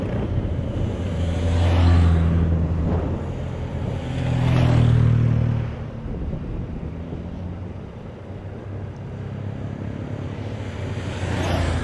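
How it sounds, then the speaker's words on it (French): Cars arrive near the gendarmerie at the Etoile de Bessèges cycle race in Bellegarde, several passing one after another with rising and fading engine swells and tyre roar, moderately close and with no voices. "Les autres voitures qui arrivent à gendarmerie."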